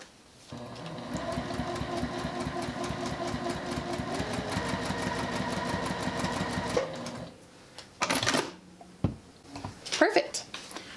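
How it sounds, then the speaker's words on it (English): A sewing machine runs steadily for several seconds, stitching a pineapple quilt block by foundation paper piecing, then stops and is followed by a few handling clicks and rustles. "Take this over to my sewing machine, open this up"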